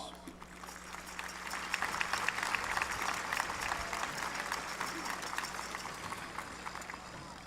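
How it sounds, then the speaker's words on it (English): An audience at a high school graduation ceremony applauds steadily, a sustained wash of clapping that swells and holds throughout, with faint voices underneath. "Would you please give them a round of applause?"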